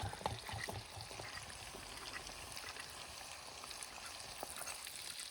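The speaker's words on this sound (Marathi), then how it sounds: "आम्ही इथं चिकन रोस्टेड तळत आहे" Roasted chicken fries in hot oil late at night, a steady, faint sizzle and crackle with no voices.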